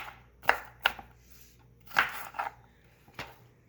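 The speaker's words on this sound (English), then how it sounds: "Now we're going to cut up an onion. This is a Vidalia onion." A knife chops a Vidalia onion on a cutting board in close, crisp strikes, about six uneven cuts spread over a few seconds with quiet gaps between them.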